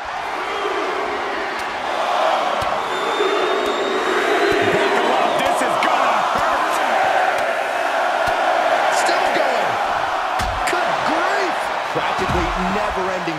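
Wrestling match crowd, a summer slam event, roaring and cheering in a continuous loud wash of noise, with an excited commentator talking over it throughout.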